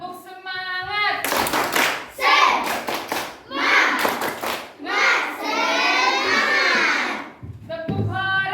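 Children in a classroom clap together in a rhythmic class cheer, sharp bursts of many hands in quick patterns, close and loud, with kids' voices shouting along between claps.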